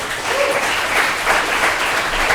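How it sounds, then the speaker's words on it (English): An audience applauds at a motivational talk, loud sustained clapping from a full room, steady and without voices. "Give Emma a big round of applause."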